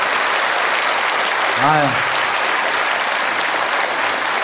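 An audience at a live comedy talk show claps in a steady, dense wash of applause that fills the room, with a brief spoken exclamation heard over it.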